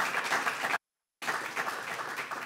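Audience applause for readers at a literary reading event, a steady broadband patter of many hands with a brief total silence in the middle before the clapping resumes.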